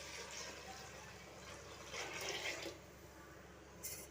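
Water is poured into a pot of fried moong dal and rice, a soft running splash that swells briefly in the middle and returns in a short burst near the end, faint and distant overall.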